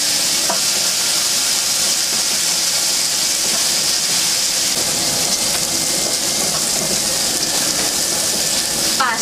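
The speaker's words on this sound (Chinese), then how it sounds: "油热后把虾仁倒进锅中，把虾仁炒干水分炒熟" Shrimp meat stir-frying in hot cooking oil in a wok, a steady loud sizzle and hiss with scraping stirs throughout, no voices.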